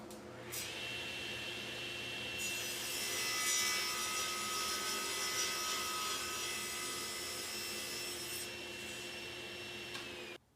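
A SawStop table saw cuts through MDF with no dust hood fitted: the motor's steady whine is joined by a sustained grinding rasp of the blade in the board, close and moderately loud, then winds down.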